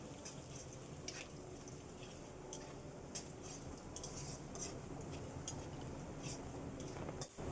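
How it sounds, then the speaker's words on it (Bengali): Chopped garlic fries in a pan for a pointed gourd mash while a utensil stirs it, with repeated light clinks and scrapes over a faint, steady background hiss. "রসুনটাকে ভালোভাবে আমি একটু ভেজে নেব"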